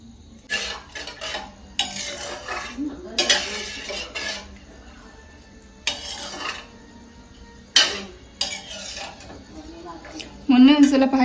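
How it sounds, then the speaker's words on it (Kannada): Boiled milk goes into a pan of frying vermicelli for a mango sweet, with intermittent clanks of a metal spoon against the pan and soft stirring scrapes, and a faint sizzle near the end. "ಇದಕ್ಕೆ ಕಾಯಿಸಿರುವಂಥ ಹಾಲನ್ನು ಹಾಕ್ತಾ ಇದ್ದೀನಿ"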